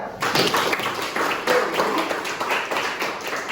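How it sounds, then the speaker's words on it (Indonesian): A school class claps for a student who answered correctly, a burst of many hands clapping that starts abruptly and carries on unevenly at moderate loudness, with faint room sounds in the background. "Tepuk tangan buat Jak."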